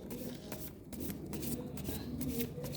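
Tarot cards being shuffled by hand, giving a dense, continuous papery riffle and flutter that stays close and steady, with faint speech in the background.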